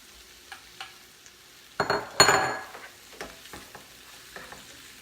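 Sausage drops into a hot skillet with a sudden burst of sizzling and a clink of a utensil, then settles into quieter crackling and light stirring noises.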